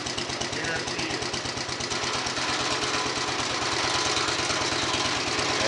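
Kohler 16 hp engine on a Wheel Horse 1677 garden tractor idling steadily up close, with a loud, even low throb and a persistent mechanical rattle and shake throughout.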